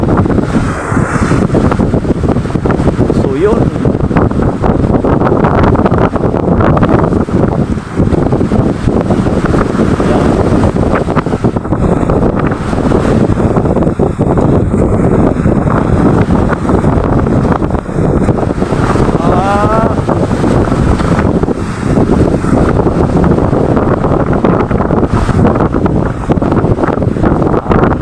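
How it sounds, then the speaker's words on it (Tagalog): Strong wind buffets the microphone nonstop over rolling sea waves, loud and close. A voice speaks briefly. "nagtiis sa alon at saka sa hangin"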